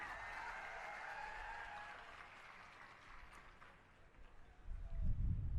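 Crowd applause at an Aam Aadmi Party public rally in Bhavnagar swells as a thick, sustained clatter of clapping that fades toward the middle, then a louder burst of crowd noise rises at the end.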